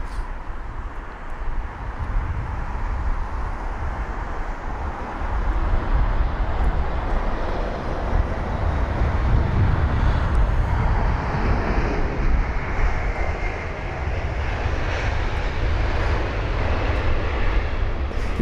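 An airliner lands at London Heathrow, its engines a steady, broad roar that swells slightly partway through and holds at a constant level without pause.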